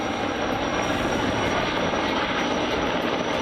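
Firefighting helicopter engines roar over a wildfire on Evia, Greece, a steady loud close drone with constant rotor noise that cuts off abruptly at the end.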